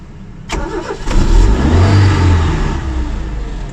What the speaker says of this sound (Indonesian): Coba kita starter. Sambil agak digas sedikit ya.